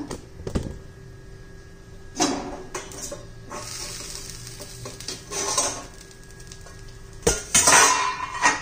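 Wheat flour chilla batter being stirred in a bowl, with soft scraping and occasional clinks of a spoon against the bowl in short bursts, alongside faint pan sizzle in a home kitchen.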